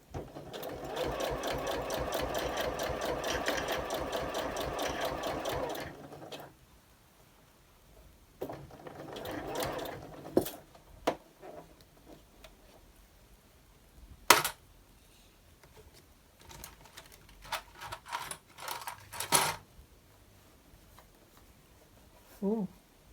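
Sewing machine stitching through several layers of a fabric cosmetic bag with elastic inside, a fast rhythmic run for about six seconds, then short bursts, clicks and handling noises.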